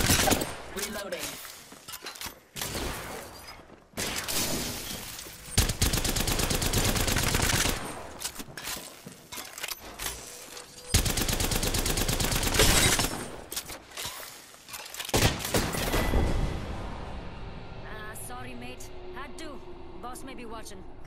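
Gunfire in Apex Legends comes in loud sustained bursts with shattering impacts, broken by quieter gaps and mixed with voiced game callouts.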